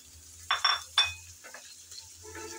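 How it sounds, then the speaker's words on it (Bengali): Mango pieces frying and being stirred in hot oil for a sour mango curry, with a few sharp scraping stirs early on over a low, steady sizzle, close and moderately loud. "আমি তো তেলের মধ্যে আমগুলো সামান্য ভেজে নিচ্ছি"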